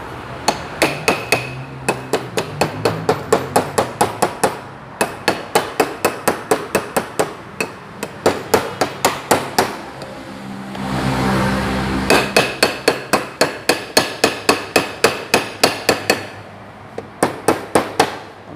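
Sharp metallic blows from a steel angle iron used as a hammer, fixing a Hatari fan, strike in quick, steady bursts, a few groups of rapid clanks separated by brief pauses, close and loud.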